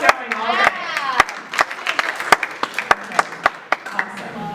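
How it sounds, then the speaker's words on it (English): A small group at a conference claps in loose, scattered bursts, each hand strike sharp and distinct rather than merging into a roar, with voices faintly underneath. "clap it up for them"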